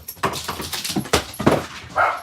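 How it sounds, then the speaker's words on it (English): A small dog chases an older dog indoors, with a run of yips, whimpers and scuffling bursts close by and no talk. "my little dog just chased my older dog"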